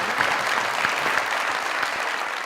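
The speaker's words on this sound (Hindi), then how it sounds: "तालियां भाई, क्या बात, क्या बात" Studio audience applause on a Pakistani comedy show, dense and even clapping held at full strength throughout, close and loud with no talking over it.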